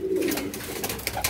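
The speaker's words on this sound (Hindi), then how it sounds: "ये जी कबूतर है 16 से 17 कबूतर है माशाल्लाह, परवाजी कबूतर है" Flight pigeons, a flock of sixteen or seventeen, give a brief low cooing amid soft flutter and ambient noise, close but moderately quiet.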